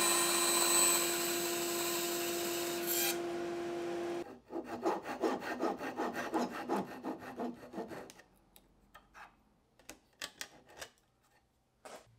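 Timber tenon shoulder cut off with a hand saw after a whining power tool stops, giving a run of close, rhythmic rasping strokes that slow and thin out toward the end.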